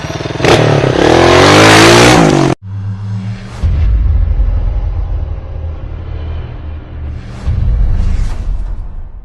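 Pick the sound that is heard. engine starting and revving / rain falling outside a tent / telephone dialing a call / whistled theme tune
engine starting and revving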